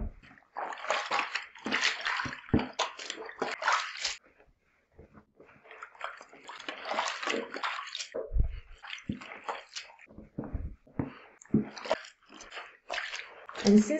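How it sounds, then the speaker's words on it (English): Close, hand-handled splashing and sloshing as white towels are pushed into a tub of bleach water, in irregular wet bursts with a brief quiet pause partway through. "Third step is adding our towels to the water."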